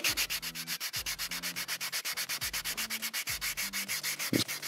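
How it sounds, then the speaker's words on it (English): Hand-sanding a piece of memory board: a rapid, rhythmic back-and-forth rasp of about eight strokes per second, close and steady, with low creaks on each push and a brief knock near the end. "This is some memory board. I'm just gonna kind of sand it down."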